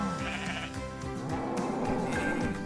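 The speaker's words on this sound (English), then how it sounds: "Then why do I hear baas and moos right now?" Several sheep bleat in overlapping, wavering calls as a livestock sound effect, loud and close, layered over one another throughout with no talking.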